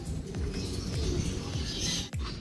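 Racing pigeons coo in a loft, repeated soft low rolling coos close by over a steady background hiss, with no talking.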